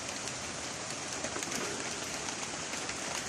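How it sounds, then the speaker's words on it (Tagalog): Rain falling steadily outdoors on a farm plot with fruit trees and vegetables, a soft, even hiss of drops with no talking. "Inabot tayo ng ulan."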